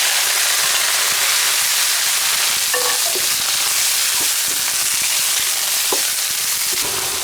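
Scallop meat hitting hot oil in a wok with ginger, garlic and dried chili, giving a steady, loud, broadband sizzle throughout with a few brief clinks and stirring scrapes, no talking.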